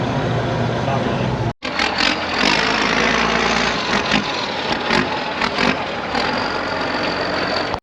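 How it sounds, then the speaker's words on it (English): A Plymouth Duster's 225 cubic inch six-cylinder engine runs loud and close after sitting for 26 years, a continuous rough rumble with a brief cut near the start, while people talk over it. "That little 6-cylinder, I say little, 225 cubic inch 6-cylinder is running awesome."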